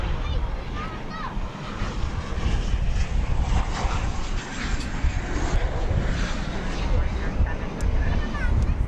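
A United Boeing 737-800 airliner arriving from Denver lands at DFW Airport, its jet engines producing a loud, sustained roar that rises and falls, with a voice talking over it.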